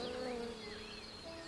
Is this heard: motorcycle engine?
no